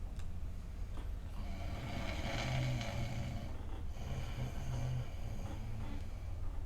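A person imitates a loud snore with rough, rasping breaths repeated in slow cycles, close and steady, with no other talk.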